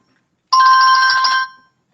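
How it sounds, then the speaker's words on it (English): A mobile phone gives one short burst of bright electronic ringing that lasts about a second. It is loud and isolated, with silence before and after. "Uh-oh, my phone's ringing."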